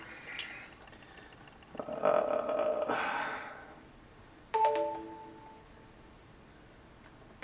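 A mobile phone rings with tonal electronic chimes in two separate bursts, the first longer and the second shorter, fairly clear over a quiet room.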